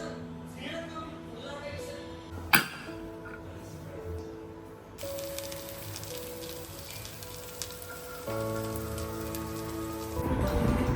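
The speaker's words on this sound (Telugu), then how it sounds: "ఇక్కడైతే ఫుల్ వర్షాలు పడుతున్నాయి" Rain falls steadily in a garden, a soft continuous patter that grows a little denser toward the end, with faint tonal sounds in the background and no talking.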